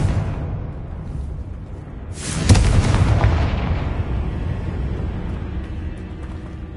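A Confringo spell explosion in Hogwarts Legacy on PlayStation 5 bursts with a sudden loud boom and a rumbling tail that fades over a few seconds, over a low game ambience.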